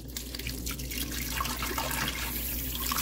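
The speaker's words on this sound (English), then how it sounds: "we are going to add some distilled water" Distilled water pours steadily into a slow cooker crock pot for bone broth, giving a continuous splashing, trickling stream that grows fuller as the crock fills, close and fairly loud with no talking.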